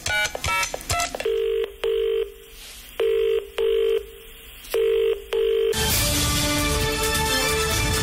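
A telephone rings during a phone-a-friend call on a Nepali TV quiz show: several quick tones, then three pairs of evenly spaced ring bursts with short gaps, loud and close, followed by a burst of broadband studio noise.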